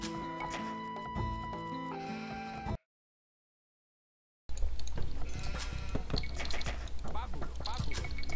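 Sheep bleat in the video game Age of Empires II, heard amid game music and effects before a short silence, then a dense stretch of game sounds with a speaking voice over it.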